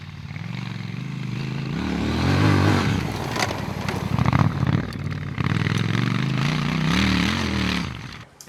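A Triumph Scrambler 1200 XE motorcycle engine revs and drones continuously off-road, rising and falling in pitch as it accelerates and slows, loud and close.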